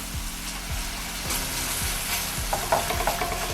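Bananas caramelizing over low heat in a pan give a soft, steady sizzle with a few faint knocks and light scraping, close and without talk.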